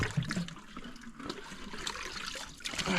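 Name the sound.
water seeping back into dug-out spring hole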